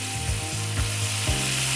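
Steak sizzling steadily in a hot pan as it is shifted around, with a continuous close frying hiss broken by repeated scraping, ratchet-like bursts roughly every quarter to half second.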